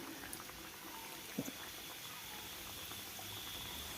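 Gujiya pastries frying in hot oil give a faint, steady sizzle and bubbling, with one small pop partway through and no voices.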